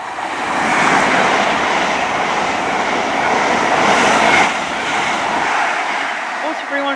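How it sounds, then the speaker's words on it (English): A passenger train from Penzance to London Paddington passes through Bruton on the Great Western main line with a loud, sustained rushing roar and rumble that swells and holds close by. "passing through now is the 13:56 from Penzance to London Paddington,"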